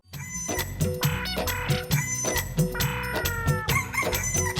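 Chickens cluck repeatedly and a rooster crows, with loud, close calls overlapping in a busy, continuous stretch of barnyard noise.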